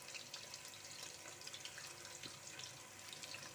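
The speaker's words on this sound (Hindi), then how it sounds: "फिर हम इसको नीम गर्म पानी से धोएंगे।" Lukewarm water runs from a tap over mutton trotters being washed in a kitchen sink, a steady soft splashing stream with faint drips, alone and fairly quiet.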